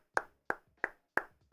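Five sharp hand claps in a slow, even rhythm, each a crisp isolated smack followed by a brief decay, fairly close and alone with no talk, at a live sports talk broadcast after the Miami Dolphins' first day of minicamp.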